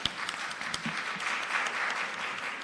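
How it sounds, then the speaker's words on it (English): Conference audience applauding presenters at a national health research conference, a fairly quiet, continuous patter of many hands clapping, heard from some distance and sustained through the short stretch. "Can we give them a round of applause?"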